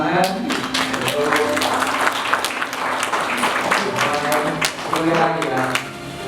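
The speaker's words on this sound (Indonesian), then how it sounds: "mari kita beri tepuk tangan untuk" Wedding guests applaud at a holy matrimony ceremony, steady clapping running through the whole stretch with a voice talking over it.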